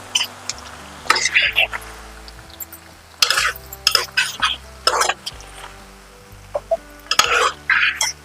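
A spice paste of poppy seeds, cashews and melon seeds cooks in a pan for a homemade country chicken curry, sizzling softly while a spoon scrapes and stirs in uneven bursts, close by, with someone talking over it.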